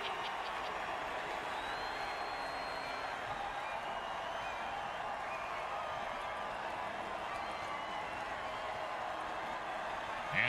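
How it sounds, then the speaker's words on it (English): A roaring video-game stadium crowd cheers steadily in Mutant Football League, a dense, unbroken wall of noise holding at the same level throughout. "Crowd's loving it."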